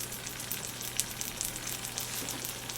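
Hamburger patty frying on a stove at the lowest heat setting, giving a steady soft sizzle with small crackling pops and no one speaking.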